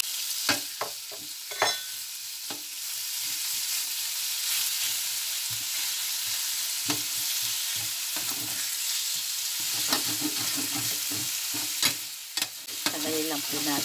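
Sliced chicken breast frying in a pan with mixed vegetables, with a steady close sizzle and repeated scraping and clacking strokes from stirring throughout.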